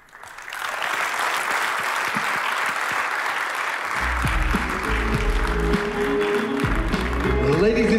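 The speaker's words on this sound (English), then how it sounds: "let's give Ashvin's parents another huge round of applause" Loud, sustained applause from a large crowd at a wedding reception fills the whole stretch; about halfway through, deep low music swells in beneath the clapping.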